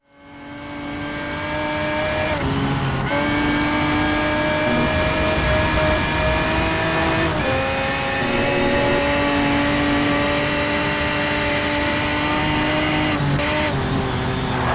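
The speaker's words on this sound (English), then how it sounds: "I want to show you this short clip of me in a GT3 car" A GT3 race car engine in NFS Shift 2 Unleashed roars continuously at high revs, with a strong whining tone that holds steady and briefly dips at a few gear shifts before climbing again. The engine is loud and close, with no talking over it.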